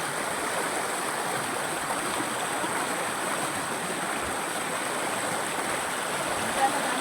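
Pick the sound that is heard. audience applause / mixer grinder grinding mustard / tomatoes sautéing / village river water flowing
village river water flowing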